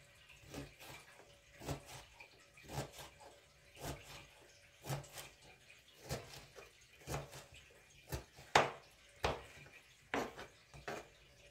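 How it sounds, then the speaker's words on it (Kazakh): Knife chopping bell pepper into cubes on a board, a series of sharp, evenly spaced taps, fairly quiet and close, with a brief pause between cuts. "болгарский турап жатырмын"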